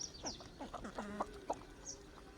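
A backyard village chicken clucks in a series of short, nearby calls with brief gaps, fairly quiet and without talking.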